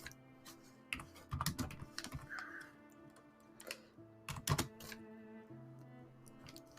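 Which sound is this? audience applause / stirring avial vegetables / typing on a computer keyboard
typing on a computer keyboard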